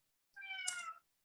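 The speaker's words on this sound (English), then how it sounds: "is that a meow coming from you?" A single short cat meow from a house cat, close and fairly quiet, lasting under a second with a rising then falling tone and no talk over it.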